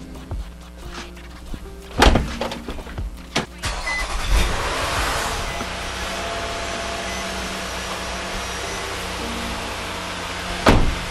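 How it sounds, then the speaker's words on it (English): 2015 Nissan Murano engine cranking, catching and settling into a steady idle, with a few thunks before and after the start. "I'm going to start it up, bring the engine up to running temperature"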